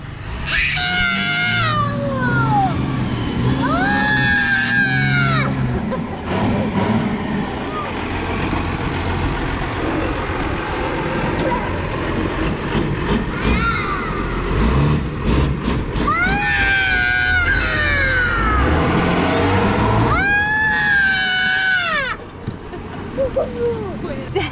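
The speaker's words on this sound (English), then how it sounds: "Monster truck." A monster truck engine rumbles continuously at an outdoor Spring Sling monster truck event, a deep steady drone running under several stretches of excited talking.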